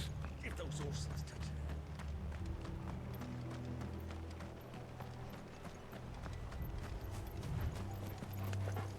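Rapid hoofbeats clop along steadily in Final Fantasy XVI, several horses running, with a low rumbling background and voices talking over them.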